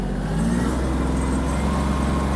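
Kubota GL-280 Japanese mini tractor engine running steadily while turning in AD mode, a close, loud, even diesel drone with a low throbbing hum throughout and no voices.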